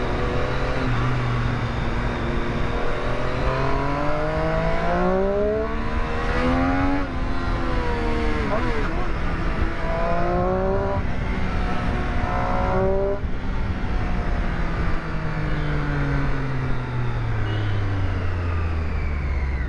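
A Triumph Street Triple RS motorcycle engine running while riding, a loud close drone with repeated rises and falls in pitch as it revs through the gears, sustained throughout.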